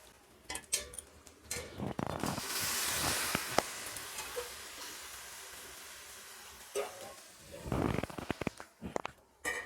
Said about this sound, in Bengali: এবার আমি এর মধ্যে গরম জল দেব পরিমাপ মতো করে।